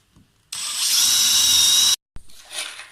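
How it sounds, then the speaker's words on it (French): A cordless drill-driver pre-drilling a hole in wood, one steady high whine of about a second and a half, close and loud, followed by a sharp click and fainter handling noise. "il faut se mettre à l'endroit où on veut percer et tenir la machine assez droit"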